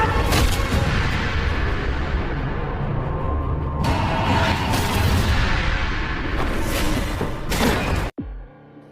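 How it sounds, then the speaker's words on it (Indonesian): Gunshots ring out in an action film fight scene, with several loud, sharp bursts spaced a second or so apart over a dense soundtrack. "Scarface menembaknya hingga Jian pun tewas"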